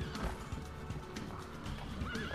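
A horse whinnies and its hooves clip-clop steadily in Assassin's Creed II, with game sound layered dense and continuous, the neigh rising clearly near the end.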